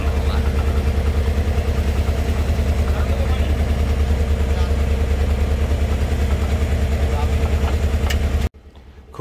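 A fishing trawler's engine runs in the Sundarbans with a loud, steady, low throbbing drone. It holds constant throughout and cuts off abruptly near the end.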